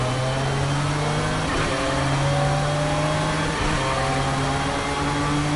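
Car engine sound effects from a racing video game, a steady droning, whining engine tone with shifting pitch and a brief gear-change dip, loud and continuous with no talk.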